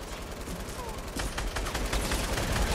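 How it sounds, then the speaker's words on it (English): Rapid gunfire crackles through a Fortnite Battle Royale duo match, an overlapping volley of shots that grows louder and busier partway through, with a voice mixed in. "Just shoot! Just shoot! Just keep shooting!"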